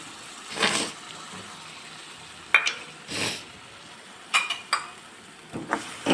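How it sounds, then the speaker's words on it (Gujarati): Tomato-onion puree going into onion and ginger-garlic paste fried golden brown in oil for restaurant-style matar paneer, giving a few separate bursts of hissing sizzle and stirring scrapes with quiet gaps between them. "ડુંગળી અને આદુ અને લસણની પેસ્ટ આપણી ગોલ્ડન બ્રાઉન થઈ ગઈ છે એટલે આપણે જે ટમેટા ડુંગળીને પ્યુરી કરી હતી હવે આની અંદર આપણે એડ કરી દઈશું"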